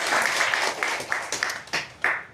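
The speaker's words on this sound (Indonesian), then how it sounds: "Boleh tepuk tangan buat kita semua" An audience applauds at a talk, starting with a full burst of clapping that thins and fades into a few scattered, separate claps near the end.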